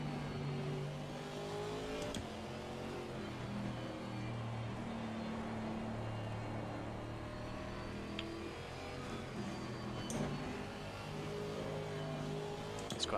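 GT4 race car engines in the Assetto Corsa Competizione racing game, heard from inside the car as a continuous engine drone with shifting revs that steadily rises and falls, with several other cars running close behind.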